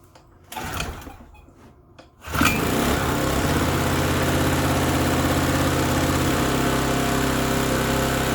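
Small portable generator engine starts after a few clicks and quiet handling sounds, then settles into a steady, loud, buzzing idle.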